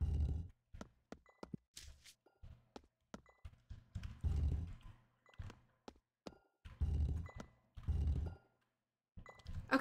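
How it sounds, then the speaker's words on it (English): Game sound in the Swamp video game marking a map border or travel point: a series of sharp, thudding clicks and short bursts in an irregular rhythm, close and moderately loud, with brief gaps of silence. "that sound usually means that there's a map border there and you can go between maps or a travel point"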